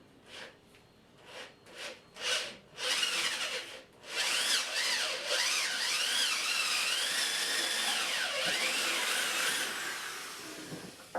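A power drill bores through a wooden board, starting with several short trigger bursts and then running in a sustained, close whirring grind that wavers as the bit cuts and finishes the hole.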